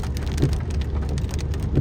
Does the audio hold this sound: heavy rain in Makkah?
yes